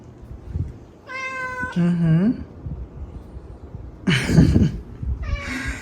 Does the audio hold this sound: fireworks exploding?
no